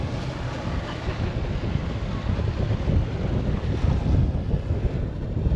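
Strong wind buffets the microphone at a St. Augustine municipal marina, a constant loud rumbling roar with water and waves faintly underneath.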